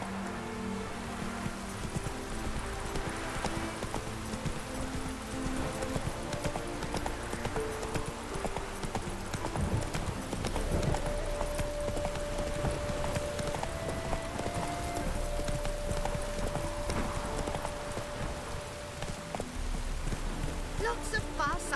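Horse hooves clopping steadily in The Witcher 3 while rain falls in the game, with music and a few spoken words mixed in; the footfalls stay continuous through the whole stretch.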